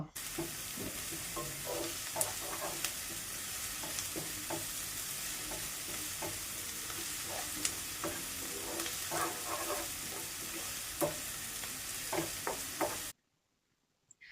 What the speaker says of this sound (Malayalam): ഇഞ്ചിൻ്റെയും വെളുത്തുള്ളിൻ്റെയൊക്കെ ഒക്കെ പച്ചമണം ഒന്ന് മാറി കിട്ടുന്നവരെ നന്നായിട്ടൊന്ന് വയറ്റിയെടുക്കണം